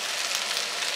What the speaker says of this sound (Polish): Teraz go tu podsmażę i w sumie dodam jeszcze resztę warzyw do tego.